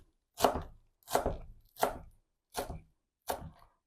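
Five evenly spaced knife strokes chop fresh dill and parsley on a board, each a crisp, close thud with a brief tail, heard alone in a quiet kitchen.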